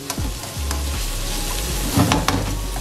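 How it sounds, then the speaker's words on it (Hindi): Chopped onions sizzle and fry steadily in a hot pan as they brown for keema karela, with occasional stirring scrapes and a brief louder stir near the end; no talking. "प्याज हमारे लाइट से हो रहे हैं ब्राउन"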